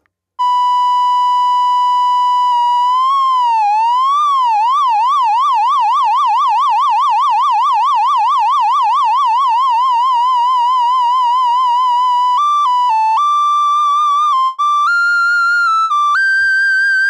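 A mono synth lead holds a bright tone while exaggerated LFO pitch modulation sweeps it up and down in a fast, even warble, which then gives way to stepped pitch changes. The sound is loud and clean with no voice present.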